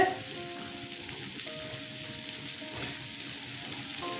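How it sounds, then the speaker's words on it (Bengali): Onions sauté in a pan with a steady, soft frying sizzle and a few faint stirring scrapes, close and continuous, without any voices. "পেঁয়াজ কষানো হয়ে গেছে"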